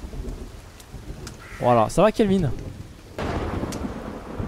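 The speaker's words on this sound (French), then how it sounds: "Ah de la pluie ça fait plaisir." Rain and a thunderstorm in the survival video game Sons of the Forest, a steady hiss of rainfall with low rumbling beneath; someone speaks briefly partway through, then the rain swells and carries on alone.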